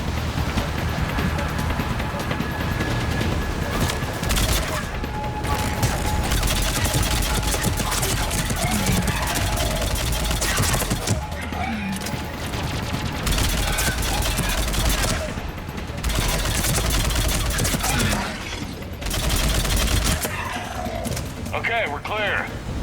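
Gunfire in the Mass Effect 3 shooter game: sustained volleys of rapid automatic bursts and sharp shots, loud and close over a dense battle din, with several short pauses and characters' voices shouting over the fighting.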